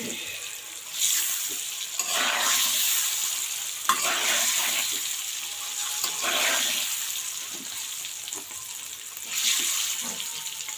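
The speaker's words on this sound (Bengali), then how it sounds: "হালকা ভেজে নিব, বেশি ভাজবো না" Eggs fry lightly in a pan with a bright, steady sizzle and occasional stirring scrapes, close and fairly loud throughout, with no one speaking.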